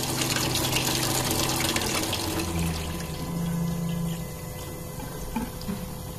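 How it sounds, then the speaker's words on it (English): SEAFLO 56A variable speed on-demand water pressure pump running at full flow, a steady loud rush of gushing water from the tap with a low pump hum underneath, easing slightly toward the end. "And I'm gonna increase the flow and let's see the pump speed up."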